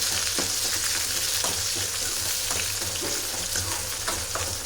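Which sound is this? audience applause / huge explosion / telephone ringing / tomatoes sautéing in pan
tomatoes sautéing in pan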